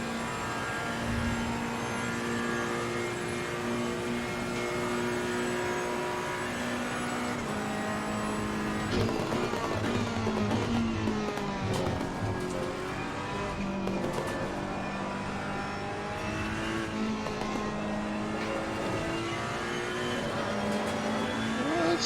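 A race car engine in Assetto Corsa Competizione drones loudly and continuously, its pitch shifting as the throttle rises and falls through gears, with no voices over it.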